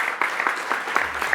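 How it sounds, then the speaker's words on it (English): Brief round of applause from a conference audience thanking the speakers at a summit, dense clapping held at a steady level for the whole moment. "So another round of applause for all our speakers."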